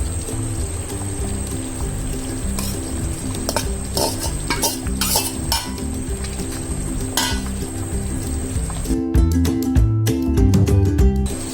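Freshly grated coconut stirred into a sizzling Malvani colocasia leaf curry, with a ladle scraping and clinking against the pot over a constant frying hiss, growing into quicker, sharper clatters near the end.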